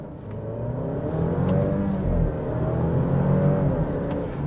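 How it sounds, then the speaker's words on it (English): An Alfa Romeo Giulia's engine revs up steadily under acceleration in first gear, a low rumbling growl rising in pitch over a few seconds. "let's put it down to first gear and do a little pull."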